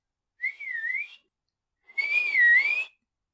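A person whistles twice, clear and alone. Each whistle is a sustained tone that dips and rises, with the second one longer and louder, in a theatrical stage-play reading.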